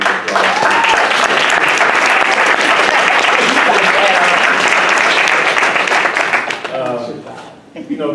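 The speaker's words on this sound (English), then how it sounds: "give them a quick round of applause" An audience applauds at a panel event on the drug war and surveillance, with loud, continuous clapping for about six seconds that thins out, after which a speaker begins talking.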